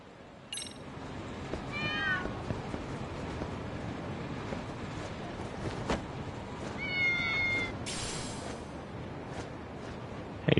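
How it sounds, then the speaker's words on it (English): A cat meows a few times in the video game Lost Judgment, short rising cries spaced apart over a steady background hum of the game scene. "Hey, little cat."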